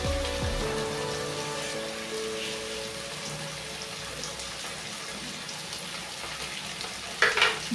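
Ginger garlic paste fries with tomatoes in a pan, a continuous close sizzle and crackle with soft stirring scrapes, ending in a brief sharper burst of spattering.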